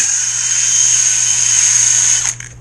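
A drill runs steadily at high speed while sanding down the nose of a wooden part, a loud continuous whine with a rough grinding edge, then spins down and stops near the end.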